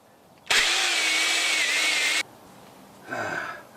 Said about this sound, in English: What I'm trying to do is drill it all the way through to about here